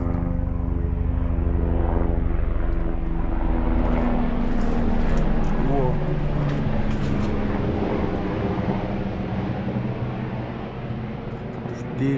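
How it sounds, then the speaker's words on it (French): A loud, continuous rotor and engine roar drones overhead, holding steady for several seconds before slowly easing off. "Oh, un hélicoptère."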